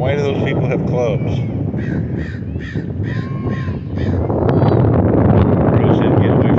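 Crow cawing outdoors in cold, windy weather, a few harsh calls in the first seconds, with wind buffeting the microphone and people talking nearby.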